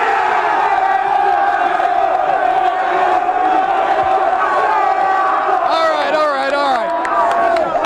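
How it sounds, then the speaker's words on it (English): A dense, loud crowd of Covington Catholic High School football fans cheers and shouts continuously, with yells and whoops rising toward the end. "How about we stop shushing and cheer a little bit?"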